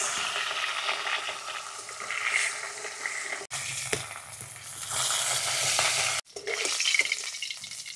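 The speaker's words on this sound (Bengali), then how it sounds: "মাছ ভাজাটা দেখুন একদম কড়কড়া করে ভেজেছি" Khoira fish frying crisp in a pan, with a loud continuous sizzle and stirring scrapes, broken by two abrupt cuts into three stretches, with no voices.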